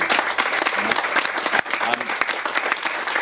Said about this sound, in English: So just give you a big round of applause, I think, for these people